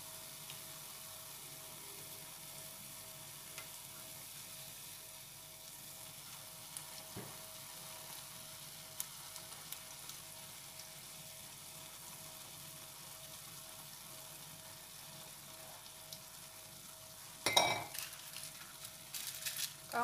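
Jalebi fries in a pan of hot oil, several spirals cooking at once and turned to brown on both sides, giving a quiet, steady sizzle with a brief clatter of utensils near the end.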